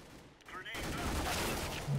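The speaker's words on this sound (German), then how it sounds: "Ich schieße, treff aber nicht." Rapid gunfire in the video game Counter-Strike, a dense burst of shots starting after a brief quiet moment and continuing loud and steady to the end.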